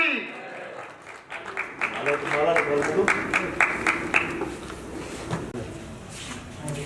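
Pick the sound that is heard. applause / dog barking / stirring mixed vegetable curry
applause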